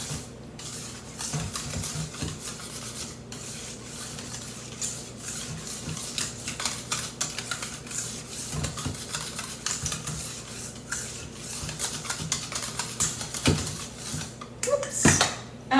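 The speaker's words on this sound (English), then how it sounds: "And then we just gently whisk this all together." Chocolate cherry loaf batter being gently whisked in a bowl, a busy run of quick scraping and light clinking strokes, close and steady, with a sharper clatter near the end.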